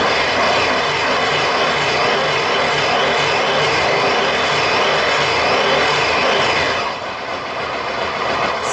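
A motorcycle engine runs steadily after a universal digital speedometer is programmed, a loud, continuous close-up roar with no talk and a slight dip in level near the end.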